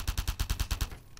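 Beta SMG-style gun from Half-Life 2 fired in Garry's Mod: a quick burst of about eight evenly spaced shots, punchy and close, followed by a short tail and a faint click.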